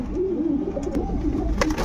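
A show pigeon cooing softly and steadily close by while being held in the hand, a low continuous murmur with faint rustles of handling.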